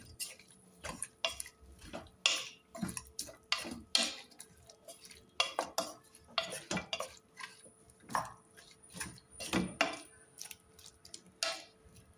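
Dried meat (qadid) being stirred in a cooking pot for couscous, with repeated scraping and clinking of a utensil against the pot in an uneven rhythm, close and fairly quiet, no talking.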